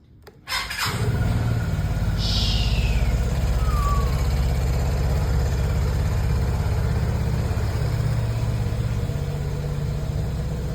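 A Vespa Primavera 150S scooter engine starts up and then idles steadily while warming up, close and even, with a couple of brief chirps early on.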